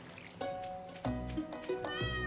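Cartoonish cat meows from Stardew Valley, three short rising calls spaced across a couple of seconds over a soft ambient game backdrop, no talking.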